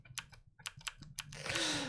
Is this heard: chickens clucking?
no